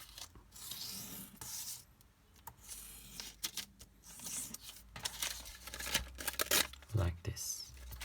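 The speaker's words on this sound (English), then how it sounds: "It is a brand new blade, so it cuts very well." The new blade of a WUBEN E62 pen light cuts through material in several uneven scraping, rasping strokes with brief pauses between them. They stay close and moderately loud, with a few sharp ticks near the end.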